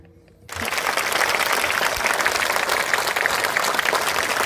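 Villagers, children and elders applaud together at a village gathering in Vadgaon Kade, Pachora, and the clapping bursts in suddenly after a quiet half-second, then holds as a dense, loud, steady wash of many hands.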